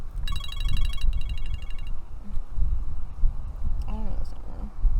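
A mobile phone ringtone rings out in repeated bursts of electronic tones at a campsite, then stops while a voice talks over low background noise.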